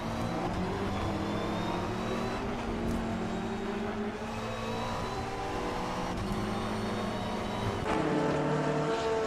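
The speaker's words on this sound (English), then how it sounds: "Javier Conti now has a whole lot of Roman Yapchev in that BMW hounding him through the corkscrew" GT3 race cars, a BMW and a McLaren, racing through the Corkscrew at Laguna Seca in a racing game, with steady loud engine drone, shifting pitches and revving throughout, no talk.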